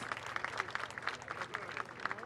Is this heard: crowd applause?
yes